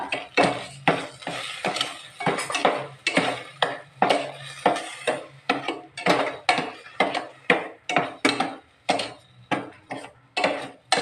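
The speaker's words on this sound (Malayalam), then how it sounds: "നല്ലതുപോലെ ഇളക്കി മസാലയും ചേർന്ന് നല്ലപോലെ ഇളക്കി" A spoon stirs date and tender coconut payasam in a pot, scraping and clinking against the metal in a steady, rhythmic series of close, loud strokes with no talking.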